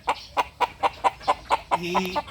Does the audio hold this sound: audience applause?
no